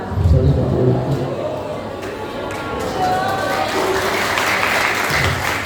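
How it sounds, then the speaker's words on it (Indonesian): A crowd bursts into applause, dense clapping that stays lively for several seconds while voices chatter and speak over it. "Tepuk tangan."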